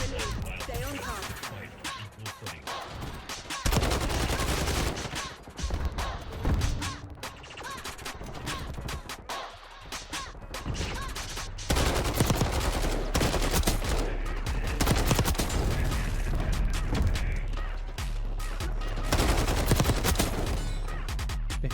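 A CR 56 AMAX assault rifle in Black Ops 6 fires in long, loud automatic bursts, with rapid cracking shots and constant gunfire filling the whole stretch over dense game noise and other weapons.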